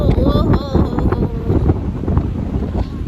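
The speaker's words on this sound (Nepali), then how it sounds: "यति धेरै हावा चलिरहेछ यहाँ चाहिँ यस्तो।" Strong wind roaring and buffeting constantly against the microphone in a hillside village in Salyan, Nepal, loud and close, with a voice faintly heard under it.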